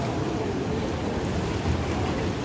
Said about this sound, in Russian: А так-то, в общем, волны тут.